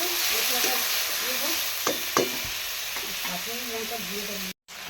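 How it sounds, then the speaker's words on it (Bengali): Masala fries with water in a pan for a Bengali kochu loti and fish-head dish, a steady close sizzle with a couple of spoon knocks and faint background voices, briefly cutting out near the end. "জল দিয়ে ভাজবো জল দিয়ে"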